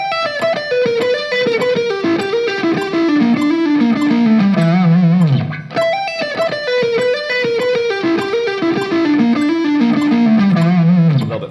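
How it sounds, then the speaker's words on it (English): Distorted electric guitar plays a shred lick slowly, a continuous run of fast descending notes repeated twice with a brief break between passes, loud and alone. "here's the tabs for that lick, and this is what it sounds like played slow."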